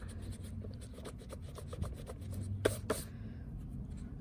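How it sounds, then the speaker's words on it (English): A pencil eraser rubs back and forth over paper while pencil lines are removed from a drawing, giving soft, close scratchy strokes. A couple of brief sharper scuffs stand out near the end. "I'm going to erase that part inside of the U."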